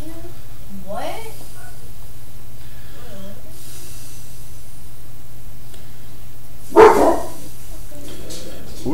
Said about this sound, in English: I wish the dog would stop doing that